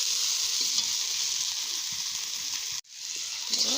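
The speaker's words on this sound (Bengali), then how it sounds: "ভালো করে মশলাটা কষে নিব।" Spice masala with dried red chilli powder frying in a pan, a loud steady close sizzle with faint stirring scrapes, briefly cut off near the end before resuming, with no talking.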